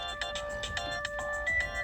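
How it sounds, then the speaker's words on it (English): A mobile phone rings nearby with a bright repeating melodic ringtone, each note pulsing steadily and close to the microphone, heard alone with no talking. "Oh, that's my phone."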